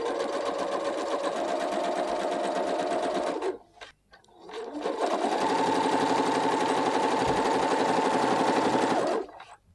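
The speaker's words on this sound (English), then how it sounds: "So here I'm going to put it into the end groove so I can stitch my next tuck." A sewing machine stitches pin tucks with a Hemline twin needle on lightweight fabric, running in a loud, steady whir, stopping briefly, then running again for a longer stretch before halting.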